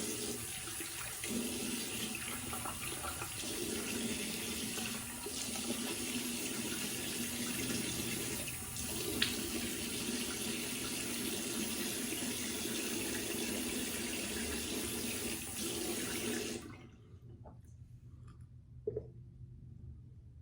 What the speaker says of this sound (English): So let me go ahead and get rinsed up here.